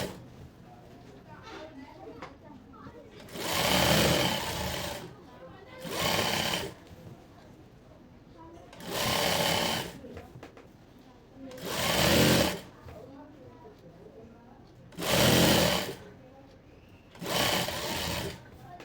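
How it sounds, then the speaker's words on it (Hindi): An electric sewing machine stitches a coat-collar kurti in short bursts, six loud whirring runs of a second or two each separated by pauses, with someone talking softly in the gaps. "अब जहाँ से हमने कट लगाया है वहाँ से हम इस तरह से सिलाई करके ले लेंगे"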